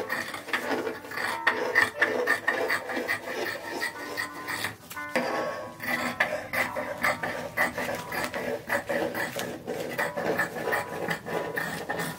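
Shot silk fabric for an 1880s bodice is cut freehand, giving a close run of crisp, rhythmic snips and rasping slides. Soft handling rustles fill the pauses between cuts, and no one speaks.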